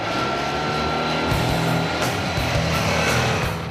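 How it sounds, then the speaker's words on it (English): Hyosung GV650 Aquila Pro cruiser with a 647cc liquid-cooled V-twin, heard riding on the road as a steady low engine drone with shifting throttle pulses and wind rush, loud and continuous with no talk. "the GV packs a 647cc liquid-cooled V-twin motor"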